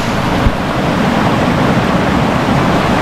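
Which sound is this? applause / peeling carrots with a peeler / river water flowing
river water flowing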